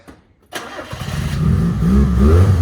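Car engine cranking and catching after silence during a restoration, then settling into a steady, rising rumble up close; people talk briefly over it.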